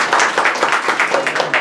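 An audience at an award ceremony for CBSE class 12 toppers claps for an award-winning student, a brisk burst of applause with clearly separate, rhythmic claps and no talk over it.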